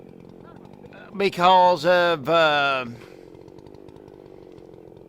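A chainsaw about to cut a hackberry tree revs up close and loud in three rising-and-falling bursts, then drops back to a low idle; its chain is binding and pulling to one side.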